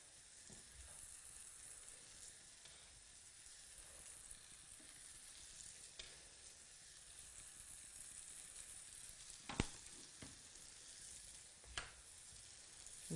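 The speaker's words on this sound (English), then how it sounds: "Now they're sizzling away." Homemade child-sized burgers fry in a pan, giving a steady close sizzle with a couple of sharp pops and spits, and no voices.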